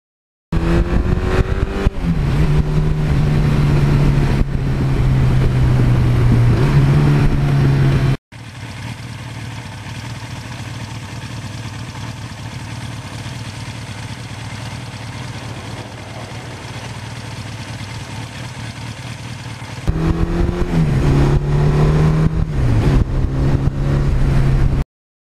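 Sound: 1982 Suzuki GS1100E motorcycle engine running and revving

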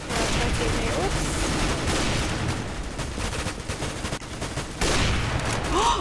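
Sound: sniper rifle shots in video game CS:GO

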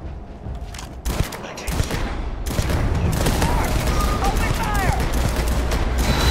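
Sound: gunfire in the video game Starfield

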